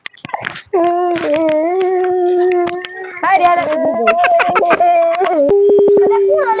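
A person imitates a dog howling with long, wavering drawn-out wails, loud and close, ending in a sustained high note.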